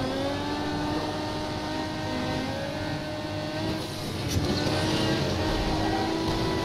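Video game Asphalt 9, a Lamborghini Centenario engine accelerating hard, a steady high droning whine with rising harmonic tones and a brief sharp transient midway, loud and continuous with no speech.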